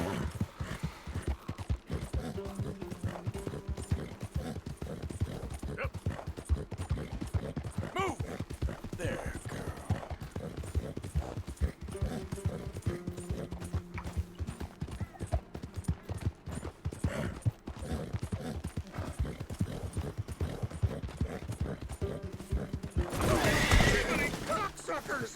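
Horse hooves clip-clop steadily and a horse neighs and whinnies in Red Dead Redemption 2 gameplay, with game ambience and a louder burst near the end.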